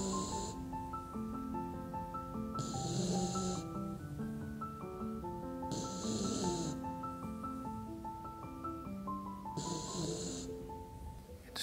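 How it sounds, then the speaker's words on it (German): A sleeping puppy snores softly and steadily, each slow breath rasping under quiet background music, close and faint in a calm indoor setting. "Jetzt schläft er hier ganz friedlich, ne? Und schnarcht vor sich hin."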